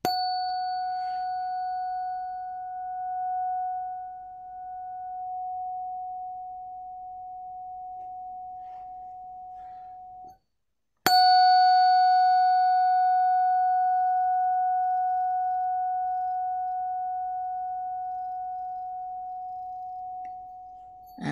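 Tuning fork struck on the side of the tine, twice: a clean pure tone rings out and fades slowly, stops, then a second sharper strike with a bright attack and a long steady ring.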